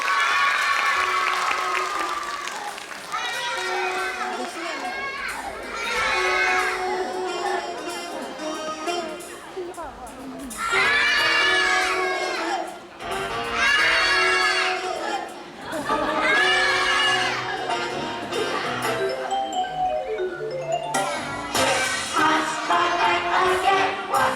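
Young children's class audience claps in several swelling bursts while kids enter a kindergarten Jungle Book performance, with shouting, chatter and an adult speaking over the applause throughout.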